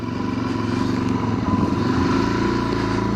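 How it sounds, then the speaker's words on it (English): Motorcycle engine running steadily close up under light throttle while the clutch is eased out in first gear, a continuous low rumble with a faint rising rev and no talking. "I'm applying like a little baby bit of throttle."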